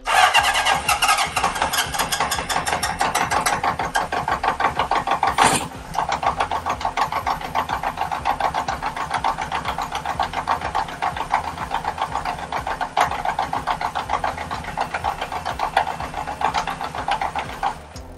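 A 1977 Honda CB750A Hondamatic motorcycle engine cranks and catches with its choke pulled, settling into a loud, rapid, even mechanical pulsing that holds steady close by with one sharp knock partway through.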